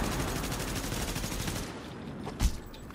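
Gunfire in The Division's Dark Zone co-op play: a rapid burst of automatic shots for over a second, then quieter scattered pops and one heavy thump.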